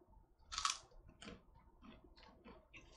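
Close, quiet crunching of a rice cake: one sharp brittle bite followed by several softer chewing crunches at a steady pace, with no talk.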